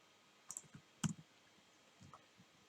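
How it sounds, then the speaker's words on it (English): Quiet computer mouse clicks while copying and pasting text into an online job application form, a few sharp close clicks in a short cluster with a single louder click, alone against near silence. "I'm going to copy and paste from my resume"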